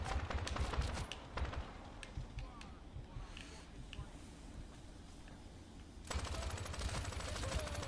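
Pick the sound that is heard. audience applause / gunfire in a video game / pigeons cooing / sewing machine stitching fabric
gunfire in a video game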